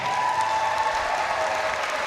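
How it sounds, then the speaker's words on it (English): A crowd applauds steadily at the British Lead Climbing Championships podium ceremony, a dense, even clatter of many hands clapping at once, with no voices on top. "let's have a massive round of applause"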